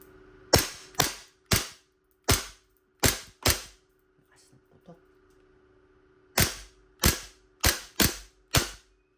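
An E&C G19 TTI Combat Master airsoft pistol fires about a dozen sharp, close snapping shots in two quick bursts, with a short pause and faint mechanical clicks between them.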